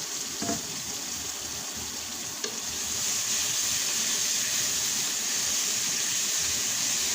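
Food, including onion and tomato, is stirred in a new pot, giving a steady sizzling hiss with a couple of sharp clinks early on, then a louder, continuous fry.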